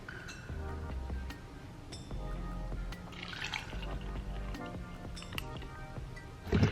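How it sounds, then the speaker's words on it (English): Matcha drink being poured into a glass indoors, with soft liquid trickles, drips and light clinks of glass spread across several seconds, fairly quiet and close, with no talking. "I'm gonna pour myself a matcha, just have something yummy to sip on"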